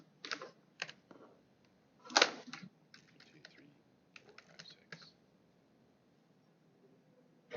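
Clicks of a computer keyboard as a password is typed, several quick separate keystrokes with one louder tap and short gaps, close and fairly quiet with no talk.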